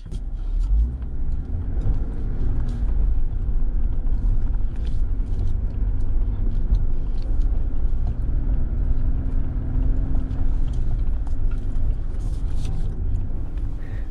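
A vehicle drives through a snow crossing off-road, its engine giving a steady, loud low rumble throughout with faint crunching on top and no talking.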